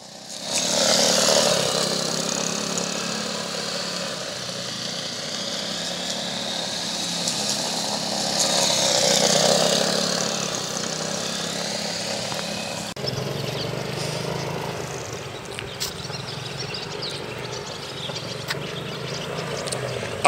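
Motorcycle ridden at a steady throttle in rainy weather during road training, an even engine drone with a swelling pass midway, mixed with broad wet hiss, nearby and continuous.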